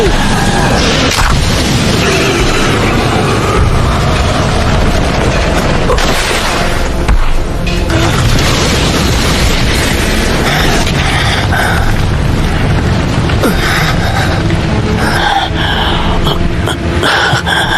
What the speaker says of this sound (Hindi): fire style dragon flame jutsu